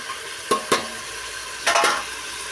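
Vegetables sauté in a pan with a low sizzle, and a few spatula scrapes and taps against the pan come in two short bursts.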